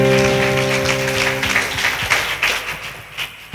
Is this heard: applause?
yes